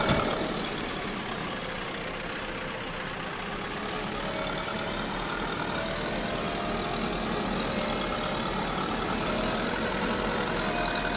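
A truck engine in a farming video game drones steadily and loudly throughout, its pitch shifting gradually as it works through the gears, with no talking.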